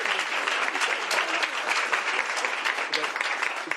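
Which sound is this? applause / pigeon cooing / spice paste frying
applause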